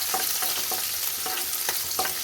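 Garlic and green chillies sizzle steadily in a pan as they are stirred, a dense close frying hiss with a few soft scraping strokes repeating through the short stretch, with no voices.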